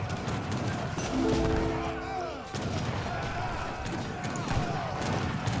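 Falconet cannons fire in a real-time strategy battle, with sharp, dense shots and distant booms crackling through a busy, mid-level mix of battlefield noise.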